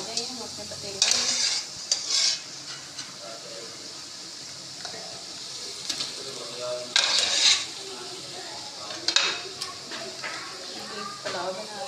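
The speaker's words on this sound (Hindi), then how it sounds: "मसाला तैयार हो चुका है। हम इसमें डालेंगे" Beef stirred into a pot of prepared masala for yakhni pulao, with bursts of sizzling hiss and scraping of a spoon against the pot, rising and fading across the clip amid faint background voices.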